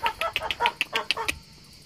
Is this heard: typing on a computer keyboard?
no